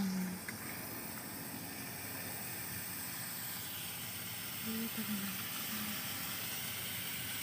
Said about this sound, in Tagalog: Lakas ng singaw.